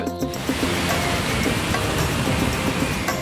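Large ocean waves breaking on a shore, a loud continuous roaring wash of surf that fills the whole stretch, close and unbroken, with no talk.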